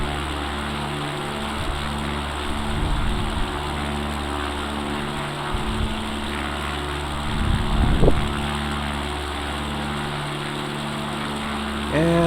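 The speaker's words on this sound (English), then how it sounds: "finally the engine is slowing down" An X Cub light aircraft's propeller engine drones steadily in flight over the Carmel Valley, its throttled-back hum winding down, with faint bumps and rumbles close by.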